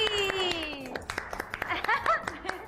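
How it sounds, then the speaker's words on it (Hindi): A studio audience claps to welcome guest Maira Khan on a TV talk show, quick scattered claps running under a musical sting and a voice speaking. "तालियां मायरा खान के लिए।"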